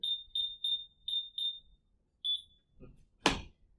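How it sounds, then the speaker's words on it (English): A home smart alarm system sounding a string of five short, evenly spaced high electronic beeps, then one more after a pause, followed by a single loud clunk nearby. "I could open the door and set the alarm off."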